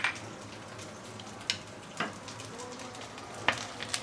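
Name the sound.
ginger, garlic and spring onion frying in oil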